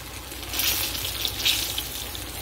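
Breaded hake fillets fry in a pan with a steady, bright sizzle that swells slightly mid-way, close and alone with no talking.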